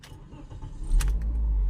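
A car engine cranks and catches outside a convenience store on a hot day, with a brief rattle of keys and a starter whir, then settles into a loud, steady low idle close by.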